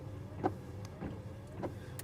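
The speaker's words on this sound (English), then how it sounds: "Let's do wipers first." Windshield wipers on a 1985 Chevrolet Monte Carlo SS, heard from inside the car as a faint motor whir with a few soft sweeping thumps at steady intervals.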